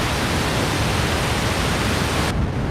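Arturia MatrixBrute synthesizer pink noise plays as a constant, dense rushing hiss, deeper and less bright than white noise, with the top end dropping away near the close.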